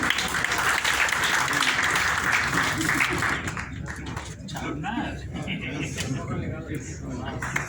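Audience applause at an Indo-Canada commerce delegation session, a dense wash of clapping for the first few seconds that thins and fades into murmuring and background voices.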